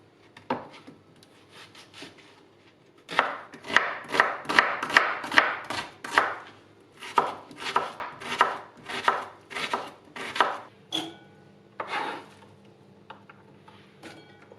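Two onions finely chopped with a knife on a board for a baked peasant-style chicken pilaf, giving a run of quick, close, sharp chopping strokes in bursts, with no talk.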